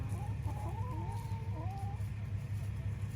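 A few newly added hens and a rooster cluck and warble softly over a steady low hum while feeding, a few drawn-out calls rising and falling in the middle, fairly faint.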